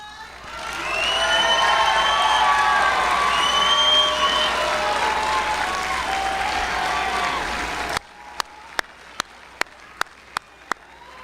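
At a high school graduation, the crowd breaks into loud applause with shouts and whoops of cheering layered over the clapping. It swells quickly and holds, then gives way to a few sharp isolated claps in a quieter room.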